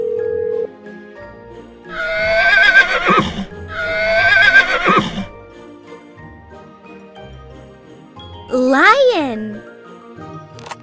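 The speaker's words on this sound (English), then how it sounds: "Horse." A toy animal phone plays a recorded horse neigh: two loud whinnies close together, then a later shorter whinny, each with a jingly electronic tone and short gaps between.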